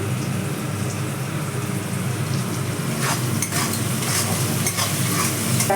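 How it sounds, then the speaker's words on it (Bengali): Fish frying in a pan gives a dense, constant sizzle, with stirring scrapes and light utensil clinks breaking through near the end. "মাছটা দেখো নরম নরম করে ভাজা হয়ে গেছে আমার"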